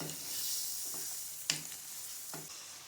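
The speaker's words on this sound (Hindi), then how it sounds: "अब हम इसमें डालेंगे वेजिटेबल ऑयल आधा कप, और बस अब हम इनको अच्छी तरह से भून लेंगे।" Koftas frying in half a cup of vegetable oil, a soft continuous sizzle broken by a few sharp stirring scrapes and clicks, close and fairly quiet.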